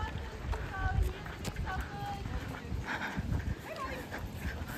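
A dog barks among cheering spectators along the roadside of the Auckland Marathon in New Zealand, a few short barks heard at a distance under steady crowd noise and nearby talk.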